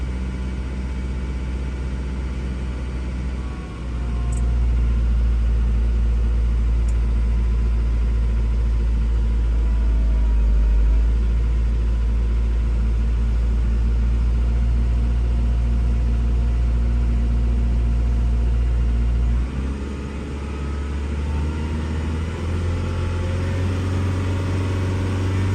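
A 2005 Kia Sorento with the 2.5 engine runs steadily at about 2,000 revs, giving a loud, continuous low rumble with a slight dip near the start and another shift around twenty seconds. No voices are heard.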